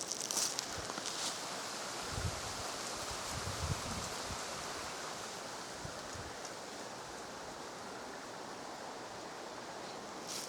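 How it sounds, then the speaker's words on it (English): Steady broadband wind rushes through trees on an autumn woodland hike, a continuous airy roar with a few low gusty thumps early on and no talking. "Hear the wind again."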